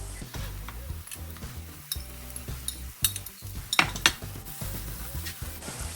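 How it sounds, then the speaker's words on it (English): Mackerel goes into seasoned hot oil in a home kitchen, giving a moderate frying sizzle mixed with stirring scrapes and light clinks of a utensil against the pan, with uneven bursts. "Now I'm just gonna add the mackerel."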